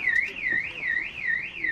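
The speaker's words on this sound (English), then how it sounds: "That's not me set the alarm off." A car alarm on a Peugeot motorhome at a motorhome show sounds in a steady, fast warbling tone, rising and falling repeatedly at close range with no talk over it.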